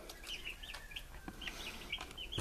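Day-old turkey poults in a brooder give repeated high, thin peeping chirps, several overlapping calls spread steadily through the moment against a faint background hum.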